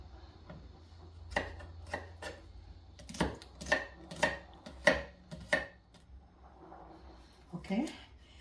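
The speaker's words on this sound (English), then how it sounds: "I'm gonna cut my scallion." A knife chops scallions on a cutting board in a home kitchen while curry goat is being made: a run of sharp, evenly spaced knocks, close and fairly loud, with quiet talk in the background.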